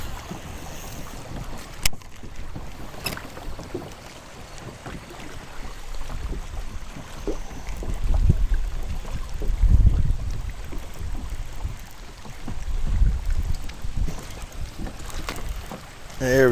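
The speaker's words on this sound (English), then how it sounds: "as the wind continues to blow" Wind gusting across a lake during fall bass fishing from a boat, a steady low rumble of buffeting air on the microphone that swells and fades, with light splashing and handling noises mixed in.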